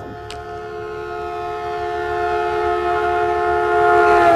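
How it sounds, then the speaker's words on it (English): A train passes in the VR game Into the Radius, its horn-like tonal drone sustained and swelling louder as it nears, with a brief sharp click early on and no talking. "for a split second, I really thought I was about to get hit by a shadow train"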